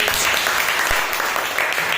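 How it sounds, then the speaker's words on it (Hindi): Classroom applause for a young fourth-grade student, a dense, steady patter of many small hands clapping at close range for about two seconds, with faint voices mixed in. "इसके लिए एक जोरदार ताली हो जाइएगा"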